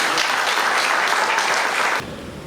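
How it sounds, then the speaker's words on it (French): An audience applauds at a French stage event, producing dense, loud clapping for about two seconds before it cuts off abruptly. "on l'applaudit s'il vous plaît"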